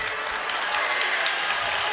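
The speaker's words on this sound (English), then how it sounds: "The Demons crowd are giving a round of applause." Demons home crowd at a basketball game applauding in a steady, even wash of clapping that holds for the whole moment without breaks.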